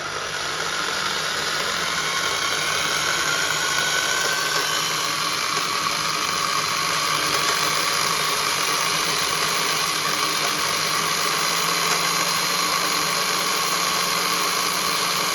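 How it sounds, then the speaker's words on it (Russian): A Soviet electric drill with a carbide bit grinds into a hardened steel file at low speed under firm pressure, a continuous loud whirring hum with a harsh scraping texture, steady throughout and without talk. "И вот сейчас попробуем напильник сверлить."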